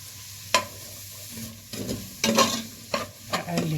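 Diced onions sautéing in a pot, a soft sizzle broken by spoon scrapes and stirring clatter in irregular bursts, close and clear with no talking.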